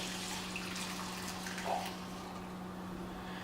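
Water runs steadily into a pot holding a cup of rice, a soft continuous pour with a brief brighter splash midway, close by and alone.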